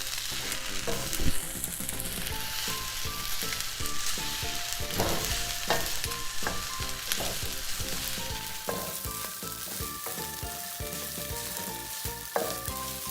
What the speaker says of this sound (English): Now start to stir the eggs and rice together.